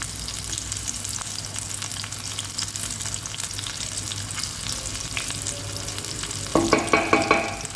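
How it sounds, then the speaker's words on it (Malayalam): Neem leaves dropped into hot oil with shallots and dried red chillies for a breadfruit curry, giving a steady frying crackle that flares into a louder, bright sizzle near the end. "കുറച്ച് വേപ്പിൻ്റെ ഇല ഇടാം"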